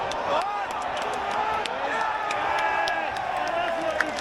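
Crowd at an England versus Exeter rugby match applauding a kick, a steady mass of clapping and cheering with scattered sharp claps, heard at a distance under ongoing commentary-like talk.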